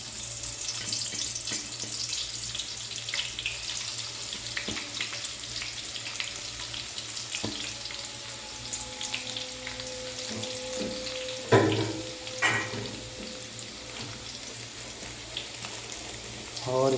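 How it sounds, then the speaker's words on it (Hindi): Garlic frying in hot oil for a dal tadka, with a steady broadband sizzle running throughout, a few brief louder bursts near the end, and light clinks from the pan. "अभी हम इसमें ऐड करेंगे लहसुन। इसको लहसुन का तुड़का लगाएंगे दाल को।"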